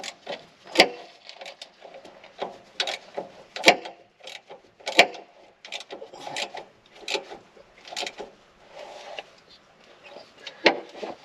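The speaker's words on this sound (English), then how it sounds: "I'll take my 13 millimeter, and I've got a 5-point socket here" A ratchet with a 13 mm five-point socket tightening a belt on a CAT 299D3XE compact track loader, giving irregular rasping clicks and bursts of ratcheting, close and fairly loud, with no talk.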